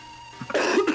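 A single short, harsh cough right up close, preceded by a faint throat sound, ending in about a second.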